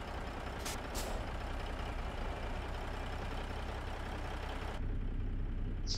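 A simulated truck in American Truck Simulator rumbles with a steady, loud engine drone, punctuated by a couple of brief hissing air-brake bursts as it releases its brakes and pulls away.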